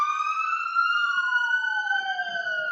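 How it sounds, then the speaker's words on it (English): An ambulance siren wails continuously as it passes by outdoors, one of several emergency vehicles heading to an accident scene, its tone holding high and then sliding downward as it moves away, loud and clear with no talk over it. "You're going to hear another ambulance coming along."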